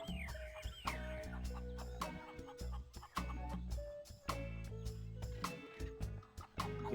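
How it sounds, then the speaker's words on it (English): A cartoon chicken from the game The Curse of Monkey Island clucks in bursts over busy, tinkling adventure-game music, with short voiced squawks running throughout. "That chicken is just taunting us."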